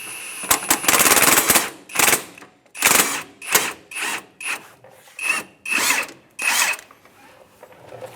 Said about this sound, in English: just use the impact, see if we can back that bolt out on its own